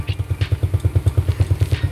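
A 2010 Yamaha Jupiter Z MT motorcycle idles with a steady, rhythmic low thumping pulse, close and even, its single-cylinder firing beats repeating about eight times a second with light mechanical clatter on top.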